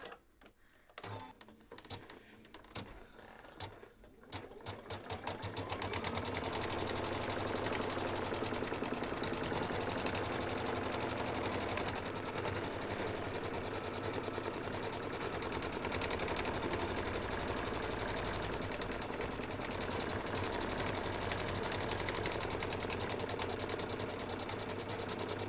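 An embroidery sewing machine stitches the outline of a football mug rug in wash-away thread. A few sparse clicks and taps build into a loud, continuous rapid whirring drone that runs steadily to the end, close and without talk.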